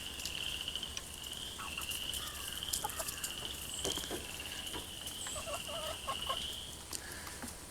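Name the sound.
chickens clucking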